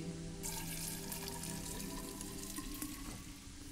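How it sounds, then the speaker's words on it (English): Water pours steadily from a kitchen tap into a cooking pot in the Fran Bow video game, a continuous rushing fill that starts abruptly and runs loud and close throughout, with no talking. "Fill up water in the pot, ready to cook."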